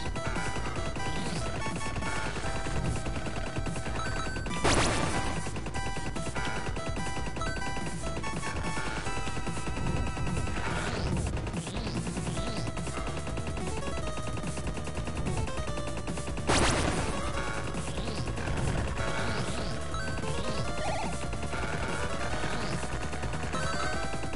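Rapid gunfire in the arcade shooter Riddled Corpses EX, continuous bursts of shots over electronic game music with a couple of louder blasts, dense and unbroken throughout, no talking.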